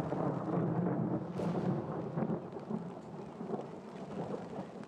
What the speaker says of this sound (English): I don't know if that's my stomach or the thunder.